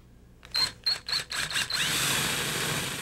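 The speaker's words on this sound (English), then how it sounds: "I'm going to bore out a hole, in this case, large enough so that the toggle can slip through" A drill bores a hole in a wall for the toggle bolt of a wood railing, a few short starts and then a steady whirring run, fairly quiet and close.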